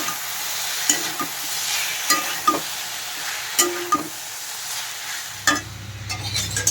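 Taro stolons frying with onion, garlic, chili and dried fish in a pan, a constant sizzle with several sharp stirring knocks and scrapes at irregular intervals.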